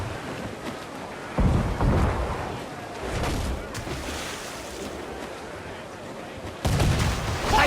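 Ship cannons fire during a naval battle in Assassin's Creed 4: Black Flag, heavy booming blasts over constant ocean wind and surf, with crew voices shouting amid the roar.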